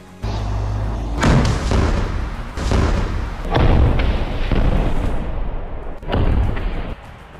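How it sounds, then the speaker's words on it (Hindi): A rocket launcher fires in a series of heavy, booming blasts, about four or five in quick succession, each with a rumbling tail, loud and close with no voices. "रॉकेट लॉन्चर फायर कर देता है जिसमें बहुत बड़ा धमाका होता है"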